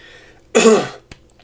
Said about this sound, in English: sorry if I've been coughing a lot